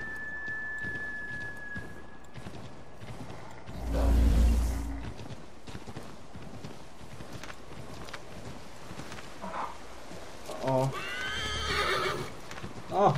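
Horse in the game Assassin's Creed 3 neighs with a loud whinny, alongside clip-clopping hooves and game ambience, while someone talks over parts of it.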